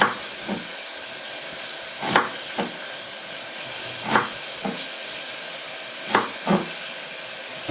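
Minced beef frying in a pan for a stew, a steady soft sizzle and hiss running throughout, broken by several sharp clicks or taps at regular intervals, close and fairly quiet with no voices.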